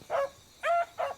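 A hunting dog in the video game Hunting Simulator 2 gives three short, clear barks in an uneven rhythm, fairly close and moderately loud, with no speech.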